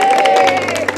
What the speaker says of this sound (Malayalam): നല്ലൊരു കയ്യടി ഓടിച്ച.